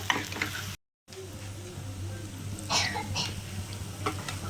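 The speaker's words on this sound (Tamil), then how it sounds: "இப்போ நல்லா முட்டை நல்லா வேகட்டும்" Eggs cook in a little oil in a pan for an egg thokku, giving a soft steady sizzle with a brief dropout and a few louder stirring scrapes later.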